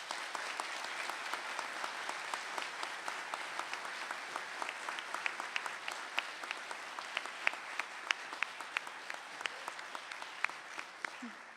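Faint, scattered applause from an audience at a university pharmacy awards ceremony continues for several seconds, individual claps standing out distinctly from a soft, distant background.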